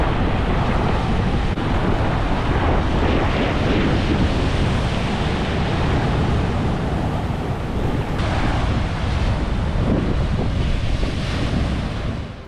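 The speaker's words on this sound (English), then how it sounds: "the way the water slams back on the rock" Ocean waves at Noosa Heads, Queensland, surge and crash back against rock in a loud, continuous roar, with heavy wind buffeting the microphone throughout and no voices.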